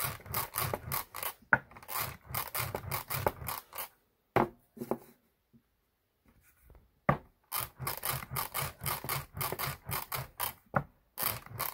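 A glued paper rocket tube rolled back and forth on a rolling board, giving rhythmic rasping strokes in steady bursts, close and clear, with a brief quiet pause midway before the strokes resume.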